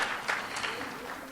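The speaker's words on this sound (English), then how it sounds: "we'll give them another round of applause" A graduation recognition ceremony audience at a college breaks into a brief, dense round of applause, a wash of many hands clapping at once that stays even and fairly loud throughout.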